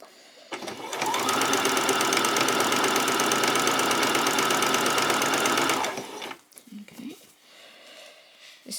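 A sewing machine back stitches a doll's peasant top in one long, loud, steady whirring run of about five seconds, close up, followed by a few faint handling clicks.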